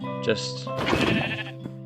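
Sheep bleating in the video game Minecraft, two or three wavering nasal bleats in quick succession, close and clear, with game sounds around them and no talk over it.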